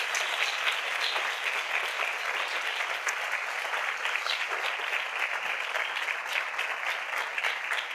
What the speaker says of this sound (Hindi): आइए यीशु के लिए एक अच्छी ताली बजाएं।